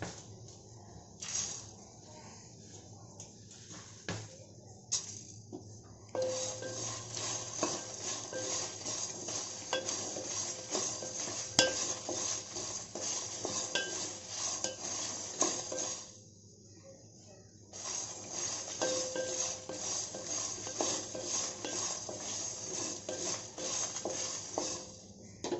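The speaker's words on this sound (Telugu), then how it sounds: "ఇందులో ధనియాలు వేసి వేయించుకోవాలి." Coriander seeds rattle and scrape as a spoon stirs them in a dry pan alongside roasted red chillies for an Andhra-style ridge gourd curry, a close, continuous gritty shuffling that pauses briefly twice.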